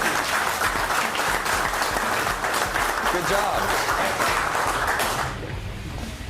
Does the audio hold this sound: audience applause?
yes